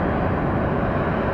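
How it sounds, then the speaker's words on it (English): A Southwest Airlines Boeing 737 taking off at Atlanta Hartsfield airport, a loud, steady broadband jet engine roar heard from nearby that fills the whole stretch without a break. "It's a Boeing 737 operated by Southwest Airlines"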